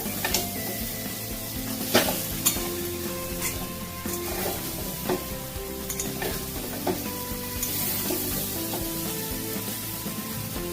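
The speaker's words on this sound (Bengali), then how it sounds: "সয়াবিন আলুটা দেখো আমার ভালো করে কষা হয়ে গেছে" Soya chunks and potatoes sautéed in a little oil and spice sizzle steadily in a pan, with frequent clinks and scrapes of a stirring spoon against the metal.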